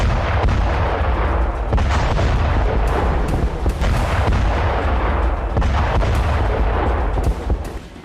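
Continuous heavy artillery and gunfire from the war in Ukraine, dense booming blasts and rapid shots layered into a loud, unbroken barrage that eases slightly only at the very end.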